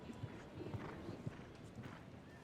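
Horse hooves clip-clop in a regular, rhythmic series of soft thuds on a show jumping course, heard faintly at a distance under a hazy background murmur.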